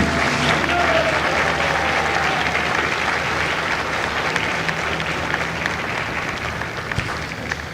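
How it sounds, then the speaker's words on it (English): Sustained applause from the audience at a Marine Corps recruit graduation for Bravo Company at MCRD San Diego, a dense, steady wash of many hands clapping that holds loud throughout and eases slightly toward the end. "please join me in a round of applause for the company staff of Company B"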